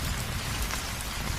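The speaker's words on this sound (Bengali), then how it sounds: "এ হলো কালবৈশাখী ঝড়" Heavy Kalbaishakhi storm rain pours down in a dense, loud, unbroken roar of drops, with a low rumbling undertone.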